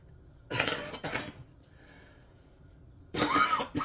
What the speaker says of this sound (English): That cough is not quite gone yet.